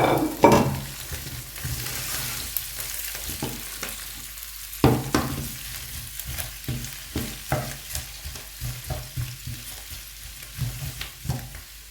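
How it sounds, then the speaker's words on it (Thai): Vegetables stir-fry in a pan with golden fried garlic, a steady sizzle broken by repeated scraping clacks of a utensil stirring, loudest as the ingredients first go in. "พอกระเทียมเจียวเหลืองหอม แล้วก็ใส่ผักลงไปจ้ะ"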